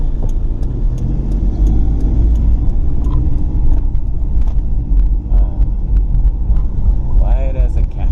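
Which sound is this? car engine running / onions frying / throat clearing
car engine running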